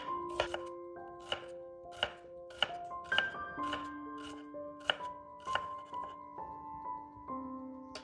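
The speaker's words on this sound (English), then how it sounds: "There's a little bit of chopping involved here" A knife chops vegetables for a crunchy Italian-style salad on a board, about a dozen sharp, evenly spaced thuds, close and clear over a quiet background with soft sustained music tones.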